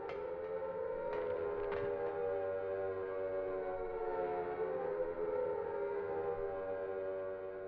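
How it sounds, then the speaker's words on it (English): A civil defense siren wails in Silent Hill, a distant, rising and falling tone that drones steadily for several seconds with no voices over it. "A siren begins to wail in the distance"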